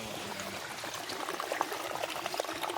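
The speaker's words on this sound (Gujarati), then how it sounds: "આને ઝરણા પડે છે અહીંયા" A waterfall stream pours over rocks on a hill, making a steady, soft, continuous rush of flowing water with no voices.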